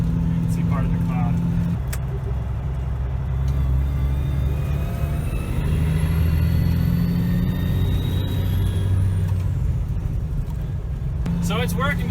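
Diesel truck under load with the switch on for rolling coal, its engine droning low and steady while revving up, heavy rumble throughout with a rising whine, and a person speaking over it at the start and end.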